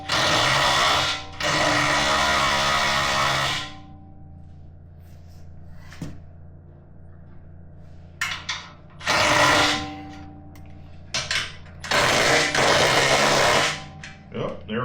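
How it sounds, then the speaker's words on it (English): A small 1/4 inch drive impact wrench hammers at a rear end bolt in three loud bursts, separated by quieter pauses with faint clinks and handling noises. "Try and see what we can do with the small 1/4 inch drive impact"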